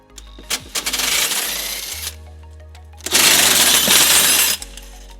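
A ratchet with a 17mm socket loosens the tow hook bolts on a 2011 Toyota RAV4, two loud, close bursts of rapid metallic clicking separated by a short pause, with no talking.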